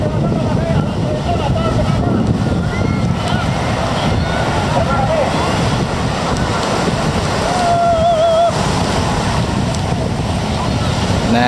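Ocean surf rolling onto Santolo beach, a steady broad wash of breaking waves with wind buffeting the microphone and a faint boat motor somewhere beyond, continuous and fairly loud throughout.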